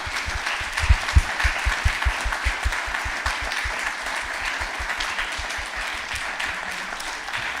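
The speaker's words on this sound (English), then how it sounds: "round of applause again for everybody." Audience applause for presenters at a live coding conference paper session, a steady wash of many hands clapping with a few close, sharp claps standing out, holding strong for the full stretch.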